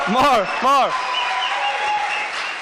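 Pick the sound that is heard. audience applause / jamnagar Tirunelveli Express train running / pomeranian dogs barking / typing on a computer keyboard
audience applause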